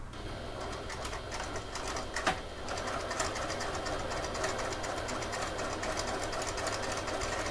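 A sewing machine runs continuously while stitching a wallet lining at stitch length 4 and reversing at the ends, with a rapid, even mechanical rattle and a brief knock partway through.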